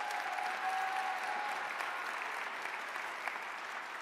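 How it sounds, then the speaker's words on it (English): At a women's impact awards ceremony, the audience gives the award recipients another round of applause. The clapping stays even and sustained throughout, a broad wash of many hands in a hall. "Can we give them another round of applause?"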